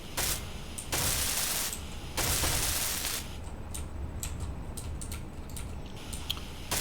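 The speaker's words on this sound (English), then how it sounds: "And I'll also weld up here." Welding tool in the Space Engineers video game, a steady broadband hiss and crackle in long loud bursts, then continuing more quietly with a series of short repeated high clicks.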